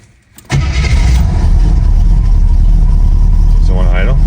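A Buick Apollo engine cranks and catches abruptly, then settles into a steady, loud idle that runs on with a brief squeal near the end.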